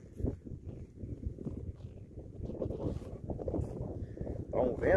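Strong wind blows across a farm, a low, blustery rumble of microphone buffeting that runs steadily throughout while someone speaks in Portuguese.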